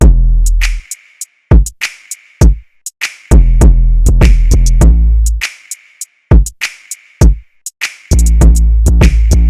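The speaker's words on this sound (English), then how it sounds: "All the drums together so far will sound like this." A full FL Studio drum beat with every part together: heavy 808 bass and kicks under rapid hi-hats and sharp snares, playing in a choppy, syncopated groove with brief gaps.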